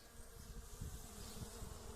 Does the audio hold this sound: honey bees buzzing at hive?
yes